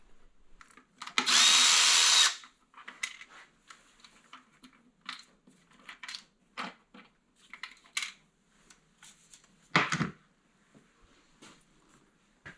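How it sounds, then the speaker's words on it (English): A power tool, likely an impact or ratchet driver, whirs in one loud two-second burst while loosening 8mm bolts on the lower intake of a Dodge Caravan or Chrysler Town & Country 3.6 L engine, followed by scattered clicks and clinks of a socket and handling. "So I will pull them 8 bolts out."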